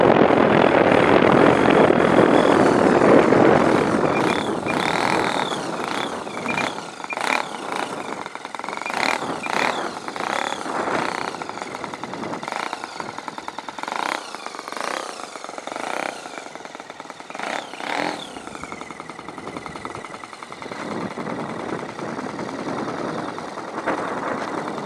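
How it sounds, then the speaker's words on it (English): The engine of an EAA biplane runs up in the stand, a loud continuous propeller roar that swells and wavers with shifting RPM, gusty wind noise mixed in, no talk. "put it in the stand, and bring the RPM up a little bit"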